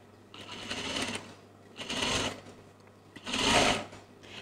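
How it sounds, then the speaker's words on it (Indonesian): A sewing machine stitches a child's garment in three separate bursts, each a whirring mechanical run of about a second, the last one loudest, close up with short quiet gaps between. "Lepas tu kita jahit lagi sekali sebab nak dapatkan hiasan yang cantik. Kita jahit double lah."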